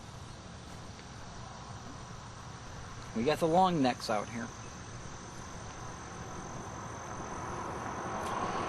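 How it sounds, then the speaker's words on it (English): Cicadas or similar insects keep up a steady, dense buzz beside a lake in Ohio on a summer morning, continuous from start to end, with brief talk from a nearby voice partway through. "Don't you love Ohio in the morning? You can hear all the cicadas."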